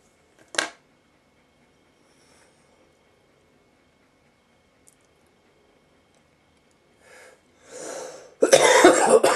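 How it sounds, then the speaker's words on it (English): A smoker's coughing: one sharp cough, then a long quiet pause before a run of louder, rougher coughs builds up close at the end. "I cough a lot because I smoke."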